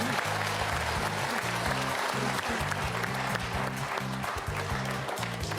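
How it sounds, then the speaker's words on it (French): A studio audience on a French quiz show applauds steadily and loudly throughout, dense clapping with a faint music bed underneath. "Applaudissements pour Hans Gerhardt"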